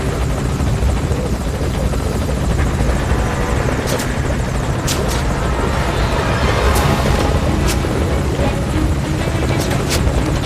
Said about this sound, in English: Focus all your fire on that enemy chopper.